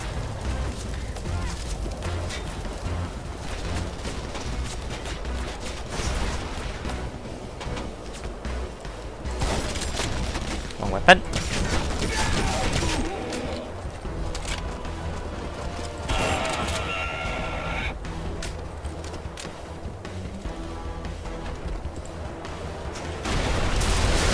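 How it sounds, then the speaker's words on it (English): In Red Faction Guerrilla, a car blows up amid rattling gunfire. A sharp blast punches through the dense, rumbling battle noise midway, followed by crackling debris. "This is going to explode. This car."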